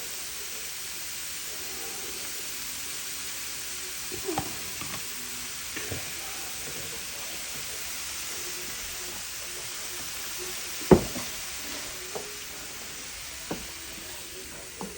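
Diced tomatoes and fresh thyme sizzle steadily in a hot pan, a soft, even hiss held throughout, with a few faint clinks and stirring knocks from a utensil.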